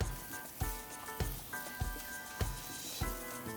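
Korean red pepper flakes sizzle steadily in a hot pan while being stirred, with soft repeated scraping strokes about twice a second over the continuous frying hiss.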